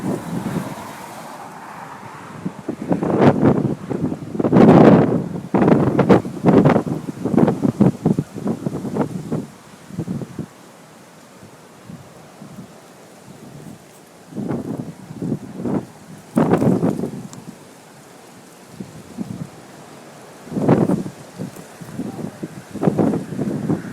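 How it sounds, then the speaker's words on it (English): Strong gusting wind during a tornado storm in Pulaski County, Kentucky, buffets the microphone in loud, rough bursts that rise and fall in waves, easing between the stronger gusts. "that wind's coming in that direction"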